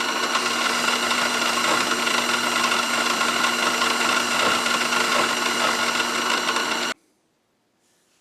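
Mini-lathe turning with a carbide insert tool, a steady whining motor hum and cutting hiss that runs evenly for about seven seconds, then stops abruptly and leaves near silence.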